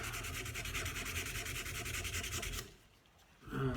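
Steady back-and-forth rubbing of 240 grit sandpaper against a golf club shaft, continuous and close for most of the stretch, then breaking off into a brief quiet pause before the scratching resumes.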